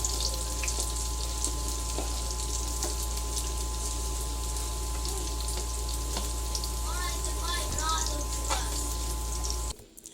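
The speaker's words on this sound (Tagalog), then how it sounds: "So ayan, piniprito na po natin ang tofu." Tofu frying in oil until light brown, a constant low sizzle and bubbling hiss that stays even and continuous throughout, with a steady hum underneath.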